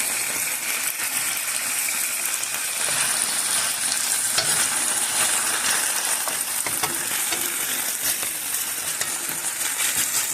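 Beef tibs frying in a pan as sliced tomatoes are added for an Ethiopian dish, a steady loud sizzle with stirring scrapes and occasional clinks running throughout.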